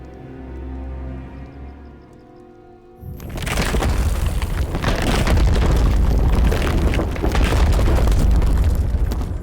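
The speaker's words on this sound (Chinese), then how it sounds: "烟花盛放，" Fireworks burst in the night sky: after a few seconds of soft, quiet background, a sudden wall of dense booming and crackling starts and stays loud and continuous to the end.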